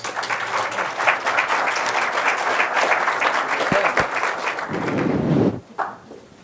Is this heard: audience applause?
yes